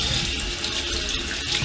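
A tap runs steadily into a sink while hands are washed with warm water, a close, continuous rushing splash with no speech.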